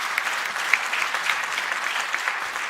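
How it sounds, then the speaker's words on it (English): Audience applause fills a space science conference opening session as the South African space agency CEO takes the stage, a steady dense clapping wash with a few sharper claps standing out, no voices. "A round of applause for him as he takes the stage."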